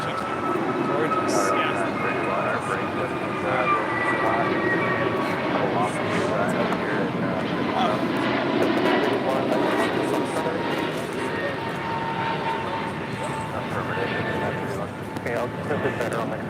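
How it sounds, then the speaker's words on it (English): Steady, loud jet roar from an American Airlines Airbus A321neo taking off at LAX for Charlotte, with a faint whine layered in and voices chatting quietly beneath it. "This is American Airlines 822 taking off to Charlotte on an A321 Neo"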